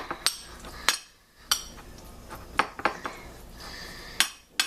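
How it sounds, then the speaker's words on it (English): Spoon stirring soup in a pot, with sharp metallic clinks and scrapes against the pot in an irregular series of about a dozen strikes, close and clear, no talking. "Stir that up."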